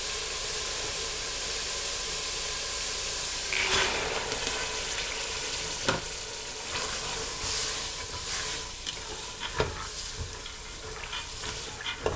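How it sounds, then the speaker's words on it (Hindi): Chickpeas frying in a hot pan with chicken liver, a steady dense sizzle with occasional spoon scrapes and stirring clatters, close and continuous without talk. "अब चने डाल के भूनते हैं।"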